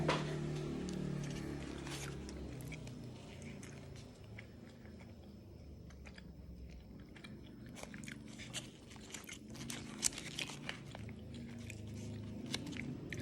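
Someone eating ice cream, with biting and chewing crunches coming close and fairly quiet in the foreground over a steady low background hum, with no talk.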